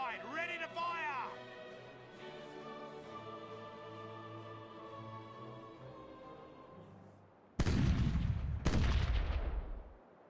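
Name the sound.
ship cannon broadside firing in video game Caribbean Legend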